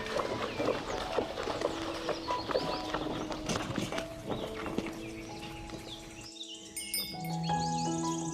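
Hooves of a horse pulling a carriage clip-clop on a stone road in a quiet European village, a steady faint rhythm under soft ambient music and background noise.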